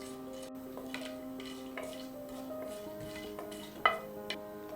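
Whole spices stirred in a cooking pot while making chicken biryani, giving soft, intermittent scraping and clinking taps against the metal, close and fairly quiet, with one sharper knock near the end.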